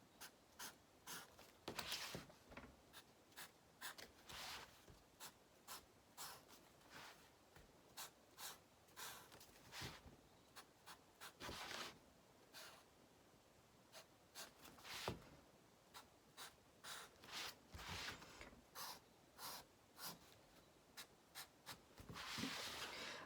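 Pen strokes drawn across paper in short sets of three lines, each in a new direction, as a patterned artwork is built up; quiet, close scratchy scribbling bursts repeat steadily with brief pauses between them.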